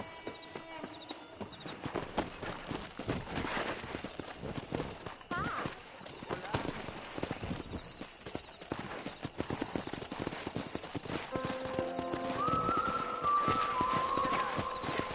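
Horse hooves clip-clop steadily at a trot amid Red Dead Redemption game sounds, with a horse whinnying and people talking over the top.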